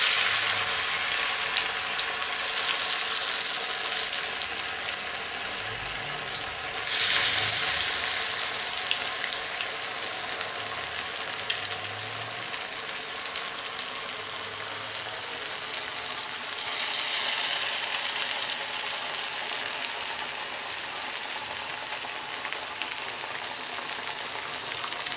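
Banana flower vadas (vazhaipoo vadai) fry in oil with a steady, dense sizzle that swells twice as fresh batter or stirring disturbs the pan, no voices.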